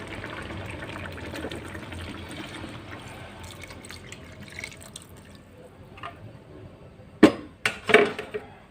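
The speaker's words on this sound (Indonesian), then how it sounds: "Sekarang mulai kita tambah santan. Masukkan santan ya." Coconut milk poured into a cooking pot of durian curry with long beans gives a soft, continuous liquid wash, followed by a few sharp, close splashes and drips.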